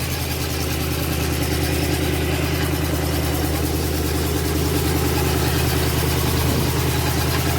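A 1984 Buick LeSabre engine idles steadily after new spark plugs, with a constant low rumble and a faint rhythmic chug throughout, no voices.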